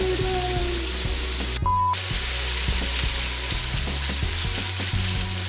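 Onion and celery sizzle steadily in hot oil in a pot, a loud, continuous crackling hiss with occasional stirring knocks, no voices.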